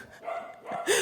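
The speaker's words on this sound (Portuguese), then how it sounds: "uma latição, é o Apolo latindo pra eles" A dog barks in short yappy bursts close by, two or three sharp yips with a rising whine at the end, set against light outdoor background noise.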